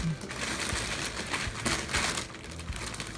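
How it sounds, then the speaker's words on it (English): A plastic bag crinkles and rustles as it is lifted off a newly unboxed Brother HL-L2390DW printer, scattered close crackles and handling bumps with some faint background voice. "Now we're gonna lift up this plastic bag."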